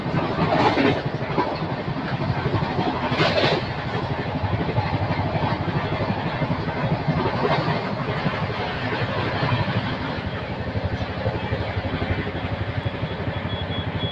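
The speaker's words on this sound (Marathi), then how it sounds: "कंटिन्युअसली गाडी ही 120 ते 125च्या स्पीडच्या मध्ये चाललेली" Passenger train on the Pune to Kurduwadi line running steadily at about 120 to 125 km/h, heard from inside as a continuous loud rumble with rhythmic wheel clatter over rail joints throughout.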